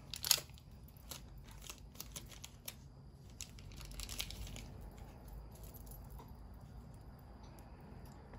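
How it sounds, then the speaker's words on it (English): A tiny doll-sized Fitbit sports band is pulled from its plastic packaging, a faint, close series of crinkles and light rustles with a few sharper snaps near the start. "Let's get it out of the plastic and see it."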